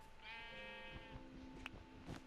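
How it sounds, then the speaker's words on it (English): Christmas sheep from Minecraft give a sustained, wavering bleat followed by a couple of shorter bleats, fairly close and clear with no talking. "we're going to let the Christmas sheep go free"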